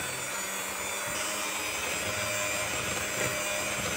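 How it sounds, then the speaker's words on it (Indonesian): Electric hand mixer at low speed blending cake flour into batter, a steady close motor whir with no talk over it. "Lalu mixer dengan kecepatan rendah sampai tercampur."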